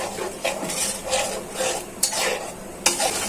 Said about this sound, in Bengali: এখন ভালো করে মাছটা কষানো হয়ে যায়।